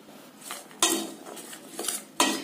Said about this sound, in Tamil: சேர்த்திட்டு நல்லா கலக்கி விட்டுருங்க.